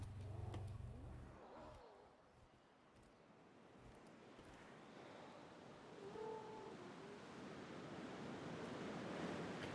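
Soft ocean waves wash beside a zoo in the video game Jurassic World Evolution 3, a quiet, continuous surf hiss with gentle swells, heard alone without voices.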